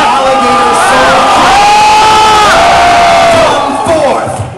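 A large arena crowd roars and cheers at a Yu-Gi-Oh duel, with loud sustained shouting, whoops and rising vocal swells that stay close and continuous before easing slightly at the end.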